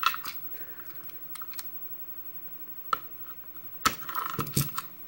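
Keys wrapped in tape are cut free with a knife, producing sparse, quiet clicks and small taps with a sharp metallic jangle and rustle near the end, close by and alone.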